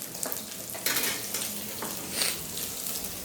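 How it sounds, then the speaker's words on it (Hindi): Fish frying in a pan on a kitchen stove, giving a loud, continuous sizzle with bursts of crackle and occasional stirring scrapes close by. "लेकिन अभी मछली तल रहा है"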